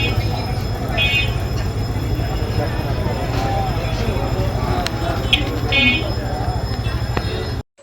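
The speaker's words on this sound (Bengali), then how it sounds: "ট্রেন যাচ্ছে।" A passing train rumbles in the distance as a steady low drone, with a couple of brief high buzzing tones and people talking over it.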